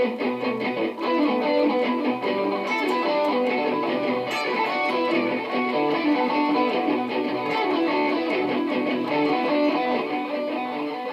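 An electric guitar with a distorted tone plays a solo phrase slowly, with a steady run of sustained, overlapping notes ringing continuously and alone, without any talking.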